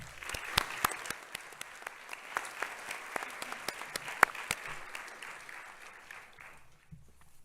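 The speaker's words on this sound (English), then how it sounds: "Let's all give them a round of applause." Audience applause at a university doctoral hooding ceremony, a fairly quiet, steady patter of many hands with a few sharper nearby claps, thinning out toward the end.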